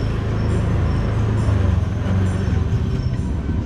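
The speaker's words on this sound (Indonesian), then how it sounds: "Kelihatannya sih itu, itu ada kereta lewat tuh temen-temen tuh." A train passes by near a housing estate under construction, heard as a steady, loud low rumble with rolling mechanical noise that holds throughout without any talk.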